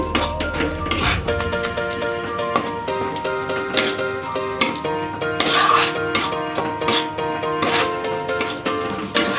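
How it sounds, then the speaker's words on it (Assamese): Tomatoes being stir-fried in a pan for a pointed gourd curry with yogurt: loud, close, repeated scrapes and metallic clinks of a spatula against the pan, steady throughout. "বিলাহীখিনি 2 মিনিটমান ভাজি ল'ম মই, কেঁচা গোন্ধটো যোৱালৈকে।"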